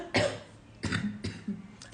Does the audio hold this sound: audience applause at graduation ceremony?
no